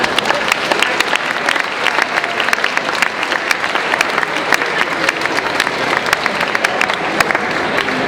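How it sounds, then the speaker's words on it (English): Steady applause from a banquet audience at a 2008 academic conference dinner in Rotterdam fills the room, dense and continuous with sharp individual claps throughout, moderately near and loud, with no talk over it. "please give him an applause."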